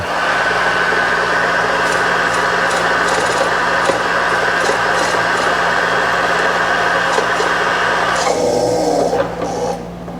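An old abandoned milling machine, left outside for a year, runs with a steady loud mechanical hum and whine that holds constant, then shifts and drops near the end as it slows.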